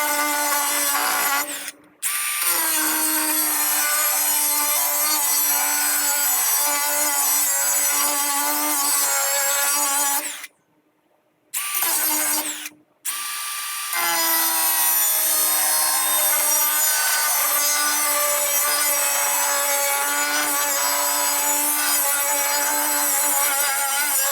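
A power saw cuts steadily through stock for pole barn wet-set brackets in long, loud continuous runs, pausing briefly twice before grinding on.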